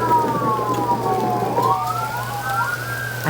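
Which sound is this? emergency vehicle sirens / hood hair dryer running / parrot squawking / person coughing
emergency vehicle sirens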